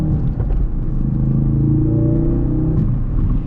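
Ford Focus RS engine pulls while driving, a steady droning rumble with a rising engine tone heard from inside the car, fairly quiet and continuous, no talking.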